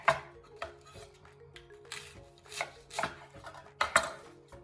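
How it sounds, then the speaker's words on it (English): A knife chops through a head of cabbage into wedges for Norwegian lamb and cabbage stew, giving about a dozen sharp crunching cuts and board knocks in an uneven rhythm. The cuts sound close and crisp, with no talk. "we're just cutting wedges of cabbage"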